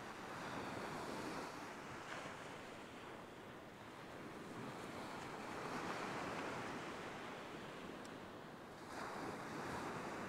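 Surf rolling onto an open beach during an evening fishing session, a continuous roar of breaking white water that swells and eases in slow surges, mixed with wind buffeting the microphone and no voices.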